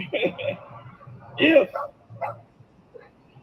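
A dog barks and yips several times in short bursts near a street lined with parked cars, with a person talking over and between the barks.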